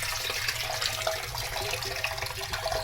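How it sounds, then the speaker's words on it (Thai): Tap water runs steadily into a sink while eels are rinsed, a close continuous splashing rush with light gurgles. "เดี๋ยวเปิดกอกน้ำนะครับ ไล่ล้างไปเรื่อยๆนะครับ"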